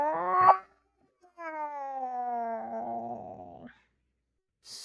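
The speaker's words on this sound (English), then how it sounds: "eerie, haunting sort of meow. That is commonly heard in the dark alleyways or on cold autumn evenings." A drawn-out, eerie cat meow with a wavering, descending tone, heard close and alone after a brief shorter cry, in a quiet setting.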